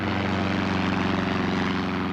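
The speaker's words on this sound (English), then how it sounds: "A plane flying through the mist which shrouded the countryside between Hatfield and Welwyn, just outside London, and coming into land." A propeller plane drones steadily as it flies through mist and comes in to land over countryside near Hatfield and Welwyn outside London, a loud continuous engine hum with no voices.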